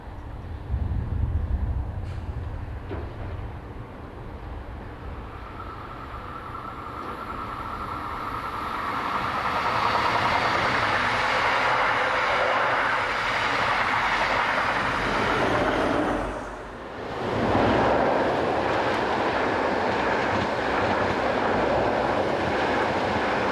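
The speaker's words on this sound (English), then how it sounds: "1142-588 powers away with a train for Bruck." Electric locomotive 1142-588 powers away with a local train for Bruck: a low rumble that builds into a broad, loud roar of motors and wheels, dips briefly, then carries on steadily.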